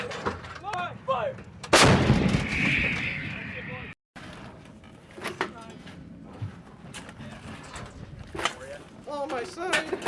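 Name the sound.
Marines firing artillery gun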